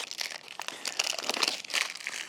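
Crinkly plastic packaging on a store-bought trot line is cut and pulled open, giving close, continuous crackling and rustling with uneven bursts throughout.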